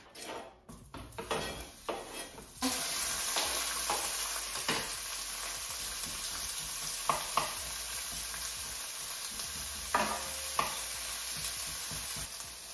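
Onions, green peppers and jalapeños sizzle steadily in a pan, broken by several sharp clinks and scrapes of a utensil stirring against the metal, with no talking.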